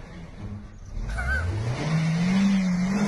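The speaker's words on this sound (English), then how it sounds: "Why is he beeping the horn?" A car horn beeps from a vehicle whose driver then tries to push the car, a low sustained honk rising and holding over engine rumble, loud and close, with no talking.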